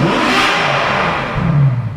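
A Ferrari F12 V12 engine revs hard and loud, a sustained roaring sweep that rises again near the end, close and dominant with no talk over it.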